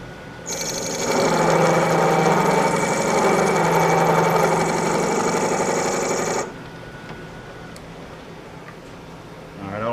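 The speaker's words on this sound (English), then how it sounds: "Now this is not the proper way to use an end mill." An end mill grinds flat the end of a bolt, a loud steady metallic machining whine with harmonic tones that runs for about six seconds, then cuts off, leaving faint shop background.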